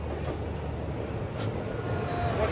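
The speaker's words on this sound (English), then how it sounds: "El Chepe meets its opposite number at this historic crossing" El Chepe passenger train rumbles on a historic single-track line while passing another train, a steady low mechanical roar with faint metallic squeals and clanks from the wheels.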